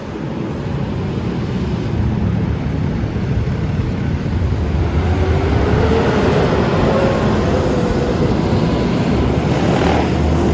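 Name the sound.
motorcycle passing on a Manhattan street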